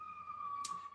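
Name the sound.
siren outside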